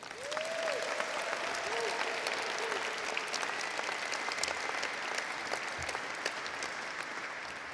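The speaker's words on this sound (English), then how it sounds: "let's have one last applause, and I think they deserve one, to our dedicated parents" Sustained applause from a large graduation crowd at a high school ceremony honoring parents, a dense even wash of clapping heard from a distance, with some voices mixed in.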